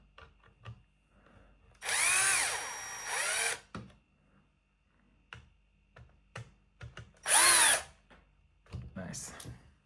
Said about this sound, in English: So I screw back all the screws.